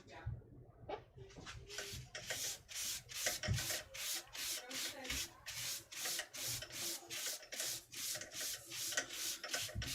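Wood spinning on a lathe while being polished with Yorkshire Grit abrasive paste gives a close, rhythmic rubbing swish that repeats in regular strokes about twice a second throughout.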